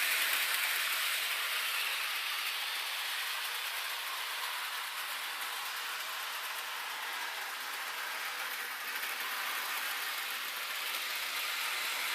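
A Bachmann Toad brake van model train runs around a home layout, giving a steady, moderately loud whir and rumble of wheels on track that continues without a break.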